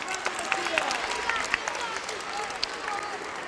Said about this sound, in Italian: Un applauso a Mattia